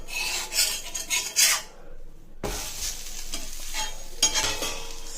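Vada frying in a pan of oil for vada curry, flipped over to cook the other side: close scraping and sizzling bursts, a short quiet gap, then continued steady frying hiss with a spatula scrape near the end.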